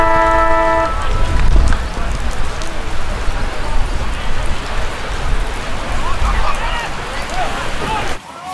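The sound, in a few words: heavy rain during a local football game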